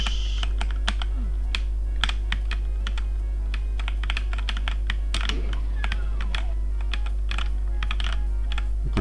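Rapid, loud computer keyboard typing while playing Doom with keyboard-only controls, irregular clustered key clacks close up over a low steady hum, no speech.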